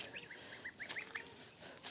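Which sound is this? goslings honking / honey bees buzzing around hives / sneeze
goslings honking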